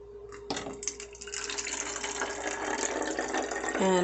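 Cooled onion peel liquid pours into a spritzer bottle, a steady rushing trickle that begins abruptly and keeps flowing, rising slightly in pitch as the bottle fills near the end.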